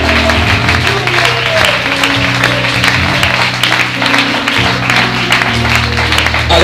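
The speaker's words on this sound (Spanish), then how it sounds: "Dale ese aplauso a Él." Church congregation applauds during a worship service, loud continuous clapping over sustained music or organ-like tones, filling the whole stretch without pause.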